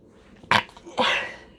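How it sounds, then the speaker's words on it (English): A quick two-part sneeze, a sharp burst followed by a breathy release, close and fairly loud in a quiet room. "I sneezed"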